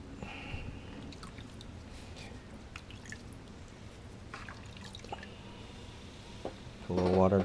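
Water dabbed onto clay on a pottery wheel while trimming a bowl: soft scattered drips and small wet splashes over a quiet background, followed by a louder humming burst near the end.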